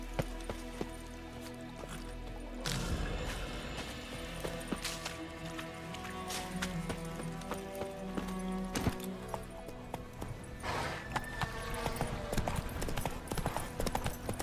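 Hooves of the horse Roach in The Witcher 3 clatter in a quick irregular clip-clop across the ground, fairly quiet under layered game ambience and some faint voices.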